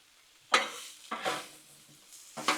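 Shrimp and sausage cooking on a Blackstone griddle: a quiet background sizzle broken by three sharp scraping, spreading strokes of a spatula on the flat top, close by.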